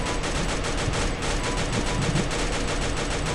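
Dense, continuous automatic gunfire in the Free Fire mobile game, loud and unbroken for the whole span as a rapid rattling burst with no voices over it.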